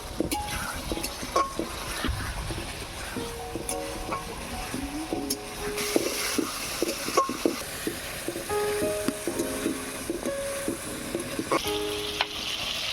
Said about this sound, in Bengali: এবারে আলুটা ভালো করে কষিয়ে নেব।